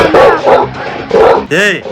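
A dog gives a short bark or yelp right after loud, close voices during a comedic skit.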